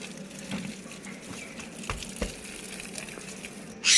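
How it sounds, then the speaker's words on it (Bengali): Water poured onto potted flower plants in a rooftop garden, a soft, faint steady splash and trickle with a couple of brief thumps, ending in a sudden louder hiss. "এখন ফুল গাছগুলোতে একটু জল দিয়ে দিলাম।"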